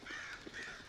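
Crows caw in the video game Darkwood, a brief, faint call of one or two harsh caws with no one talking.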